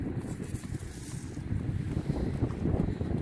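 Choppy wind buffeting a microphone on a beach, rough low rumbling gusts that swell and ease, close and fairly loud, with no voices.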